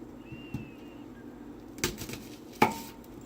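A knife cuts an onion on a board in a few sharp, separate strokes, quiet and close, with faint kitchen background noise between the cuts.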